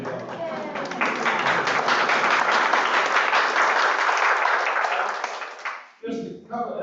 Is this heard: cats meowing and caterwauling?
no